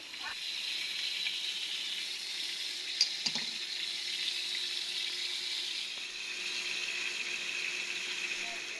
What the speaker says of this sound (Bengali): মাছগুলো তো ভালোভাবে মাখানো হয়ে গিয়েছে তা আমু ভাজা শুরু করে দিয়েছে